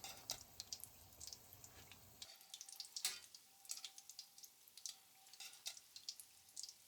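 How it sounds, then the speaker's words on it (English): Potato croquettes deep frying in oil give a faint, close bubbling sizzle with scattered crackles and pops, quiet and steady with no talk. "Deep fry them for about 5 minutes."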